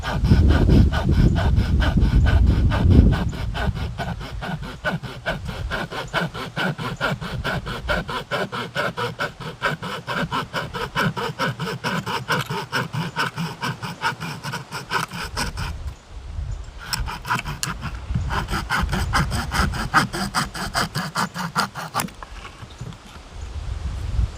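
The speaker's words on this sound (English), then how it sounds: "This is a double cut saw, as you can see by the wood dust coming out both sides." A Victorinox Rangergrip 79 folding knife's double-cut saw blade works through hardwood in steady, fast back-and-forth strokes, a loud, close rasping rhythm that runs almost continuously with a couple of brief pauses near the end.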